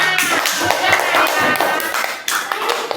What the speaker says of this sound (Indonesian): tepuk tangan untuk temannya yang sudah bisa menjawabnya